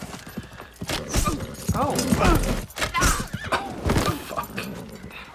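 A horse neighs loudly amid galloping hooves and clattering battle noise from a Vikings TV episode, and people talk and exclaim over it.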